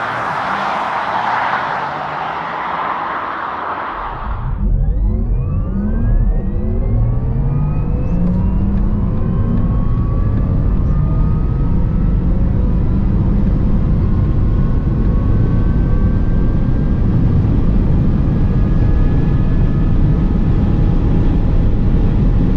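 A Porsche Taycan Turbo S accelerates hard on the Autobahn. Heavy wind rush gives way to a loud, steady electric-motor whine that rises smoothly in pitch over a constant road and wind roar, with no gear changes.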